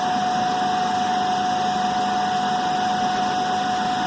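An electric motor runs under load during a Hopkinson test, giving a steady, loud mechanical hum with a constant high electrical whine that stays unchanged throughout.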